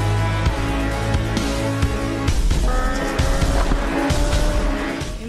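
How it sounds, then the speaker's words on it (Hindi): Rally cars racing on a short sandy, rocky rallycross track, engines roaring continuously with revving pitch shifts and tire squeals and skids, loud and near. "इंतहाई दुश्वार गुजार रास्तों पर गाड़ी दौड़ाना आसान नहीं।"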